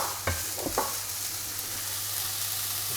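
Bacon strips, onion and garlic fry in a hot pan, a steady close sizzle with a few quick stirring scrapes near the start, no talking.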